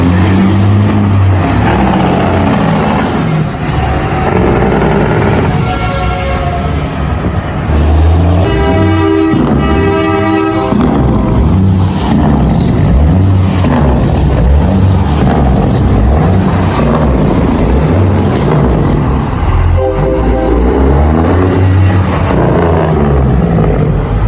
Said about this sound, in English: The act of releasing compressed air during engine braking creates a significant amount of noise